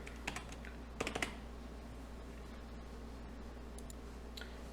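Light clicking keystrokes on a computer keyboard enter a number: a few quick taps, a short cluster around a second in, then scattered faint clicks in a quiet room.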